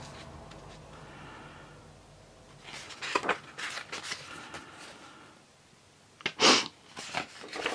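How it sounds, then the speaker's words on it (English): A person sniffles several times through the nose while paging through a coloring book, making short breathy bursts close to the microphone with quiet gaps between them and no talking. "Excuse me sniffling at you,"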